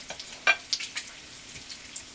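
Potatoes and onions fry with bacon in a pan, giving a soft crackling sizzle with a few sharper pops and stirring scrapes, close by and fairly quiet.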